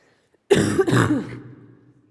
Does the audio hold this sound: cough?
yes